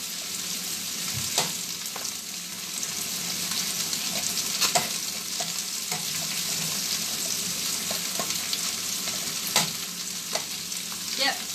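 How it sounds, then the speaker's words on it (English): Butter melting and sizzling in a pan on a hot plate, a soft steady frying hiss with occasional clinks and stirring scrapes, close and moderately quiet throughout. "butter is melting"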